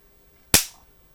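A spark generator fires once with a single sharp, loud snap close by, fading quickly into silence.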